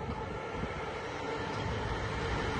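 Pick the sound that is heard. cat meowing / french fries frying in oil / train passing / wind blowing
train passing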